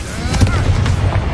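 Confringo fire spell blast in Hogwarts Legacy, a short loud burst with rumbling low boom and crackle, lasting about a second.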